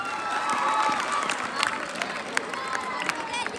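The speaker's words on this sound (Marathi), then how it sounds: "त्यासाठी तिच्यासाठी जोरदार टाळ्या वाजवा." A school audience at a celebration day applauds a student, a broad wash of clapping mixed with crowd noise and a few cheers and children's shouts, sustained and fairly loud.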